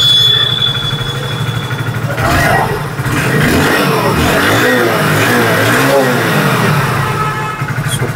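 A Hero Passion Pro motorcycle engine idles steadily up close with a low, even beat throughout, while faint talk runs in the background.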